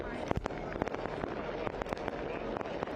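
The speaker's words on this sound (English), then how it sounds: "Fireworks down the street, fireworks in the stadium, and William Akio jubilant in Patterson." Fireworks bursting in and near a soccer stadium during a Cosmos versus Greenville Triumph match, with repeated sharp cracks and pops over a steady crowd roar, some close and loud, others more distant.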